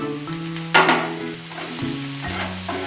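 Mushroom, capsicum, sweet corn and paneer sauté over a high flame, giving a steady close sizzle with a few stirring scrapes and one louder clatter.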